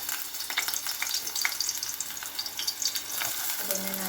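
Sliced ginger sautés in a hot frying pan, a steady crackling sizzle punctuated by scraping stirs and small pops, close and moderately loud with no talking.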